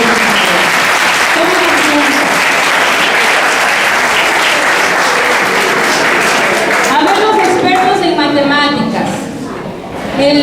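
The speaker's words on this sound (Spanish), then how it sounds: "Aplausos a los 30 voluntarios." A lecture audience gives sustained, dense applause for thirty volunteers. The clapping stays loud and steady for most of the stretch, and a voice emerges as it tapers near the end.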